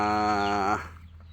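A short burst of loud, nasal duck quacking up close, stopping abruptly and leaving quiet background.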